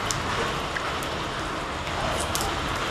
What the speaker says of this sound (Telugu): వర్షం అయితే వస్తుంది ఫ్రెండ్స్ ఫుల్గా.